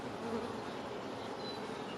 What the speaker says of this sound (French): il y a beaucoup d'abeilles qui reviennent butiner